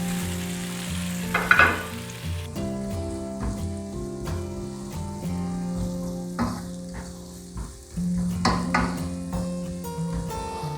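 Chopped onions and dried fish chili sizzle and crackle steadily in a hot pan while being tempered for a Sri Lankan egg and water spinach dish, with occasional stirring scrapes and taps.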